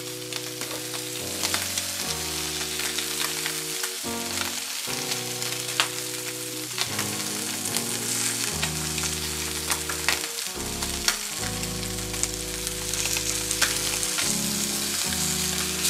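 New York strip steak frying fat-side down in a pan, a steady close sizzle with scattered crackles that runs throughout, under a layer of steady musical tones.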